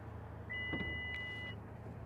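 Power liftgate on a 2023 Honda CR-V opening with a steady electric motor whir, marked by two overlapping electronic beep tones near the start and middle, over a low idling engine hum.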